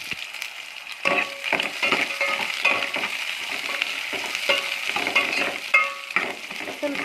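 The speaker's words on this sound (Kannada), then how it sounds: "ಈರುಳ್ಳಿ ಕಡಿಮೆ ಫ್ಲೇಮಲ್ಲಿ ಇಟ್ಕೊಂಡು ಹುರ್ಕೋಬೇಕು" Onions fry on a low flame in a mustard seed and cumin tempering, giving a continuous crackling sizzle with repeated scraping stirs throughout.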